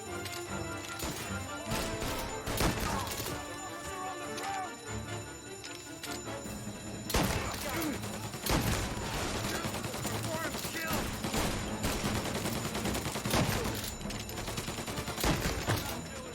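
Shotgun gunfire in the Mafia video game, with repeated loud blasts and scattered shots in a dense, noisy firefight, mixed with other gunfire and game sound throughout.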